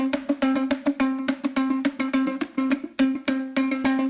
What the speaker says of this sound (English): he played me a little something on I guess it was a broken guitar